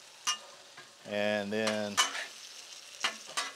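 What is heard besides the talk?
asparagus frying on a Blackstone griddle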